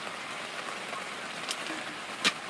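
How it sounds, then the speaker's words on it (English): Rain falls steadily as a soft, even hiss on outdoor surfaces, with a couple of sharper isolated drips or taps standing out late. "And it's raining again."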